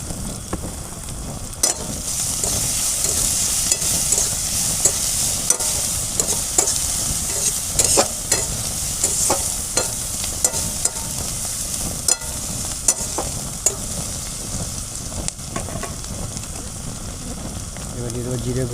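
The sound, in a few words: onion, ginger, garlic, cardamom frying and stirred in pan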